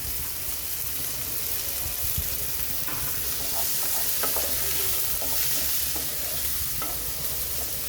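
Tomato tipped into hot oil with a little ginger for a flat needlefish curry, frying with a steady, dense sizzle and occasional stirring scrapes throughout, close and continuous with no voices.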